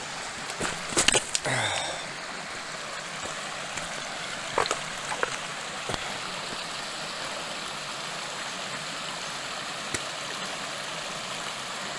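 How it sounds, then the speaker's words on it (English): Blackburn Creek running at low flow on a hiking trail, a steady soft wash of water throughout, with a few brief clicks and knocks near the start. "and this is Blackburn Creek."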